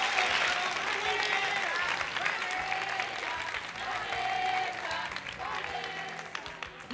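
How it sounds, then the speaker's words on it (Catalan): Students and spectators at a school quiz competition applaud in a sustained, lively burst, with crowd voices and cheers mixed into the clapping. "Un aplaudiment per a elles."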